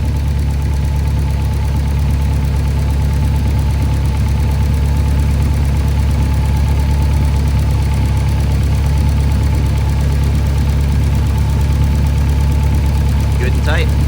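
A Honda K24 engine idles steadily after Fuel Tech tuning, a loud, close, continuous low rumble with a faint ticking rattle, and brief talk over it.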